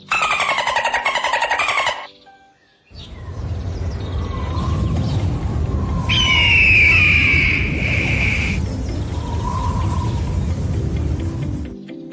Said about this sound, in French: Son cri s'appelle le sifflement.